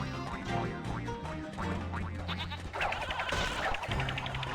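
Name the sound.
sheep bleating in the video game Skylanders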